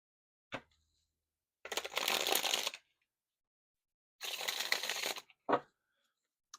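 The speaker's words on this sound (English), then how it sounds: "All right, one more shuffle" Tarot cards riffled in two bursts of about a second each, with sharp single card snaps before, between and after, close and crisp with silence in between.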